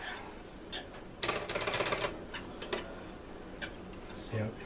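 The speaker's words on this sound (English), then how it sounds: "So let's whisk this in here." Whisk stirring flavoring powder into a sauce, a quick burst of rapid metallic ticking against a bowl followed by a few scattered clinks, fairly close over quiet room noise.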